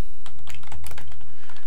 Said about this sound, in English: the frickin' real keyboard doesn't type the way a Cocoa keyboard types